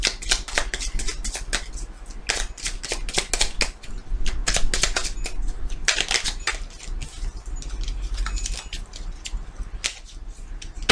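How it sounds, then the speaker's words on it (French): Small oracle cards being dealt and laid out on a table during a sentimental and general reading, giving a steady run of crisp flicks and slaps, close and fairly loud, with no talk. "je vais mettre les petites cartes"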